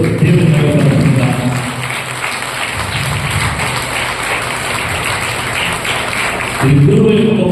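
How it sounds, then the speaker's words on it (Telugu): Congregation clapping at a church thanksgiving mass, steady dense applause from many hands filling the room for several seconds, loud and continuous with a brief swell at the end. "అందులో వెంటనే చప్పట్లు కొడుతూ దేవుని మహిమపరుచుకుందాం."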